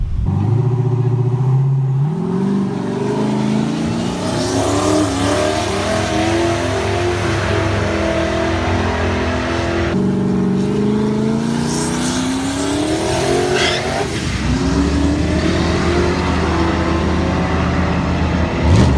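A Chevrolet Camaro with a six-speed gearbox launches down a drag strip on poor tires, its loud engine revving up through the gears with sharp shift breaks and continuous roaring acceleration.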